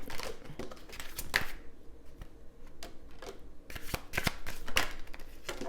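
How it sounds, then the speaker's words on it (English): Tarot cards being shuffled by hand, a run of crisp riffling and papery flutters with short pauses between bursts, close and fairly quiet, no talking. "I'm just going to do one more shuffle."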